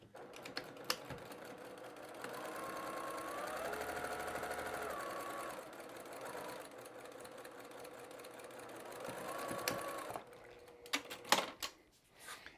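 Sewing machine stitching a batik fabric quilt block, giving faint, steady mechanical whirring through the middle with scattered clicks and taps before and after.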